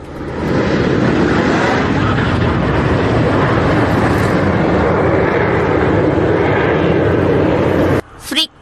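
Jet aircraft of the Italian Frecce Tricolori aerobatic team fly in close formation of five at an air show in Italy, producing a loud, continuous roar that cuts off abruptly near the end.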